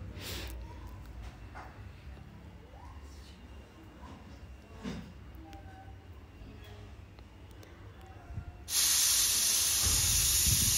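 A pressure cooker cooking khichdi on a stove sits quietly under faint background sounds until a loud, sudden hiss of escaping steam bursts out and continues steadily to the end.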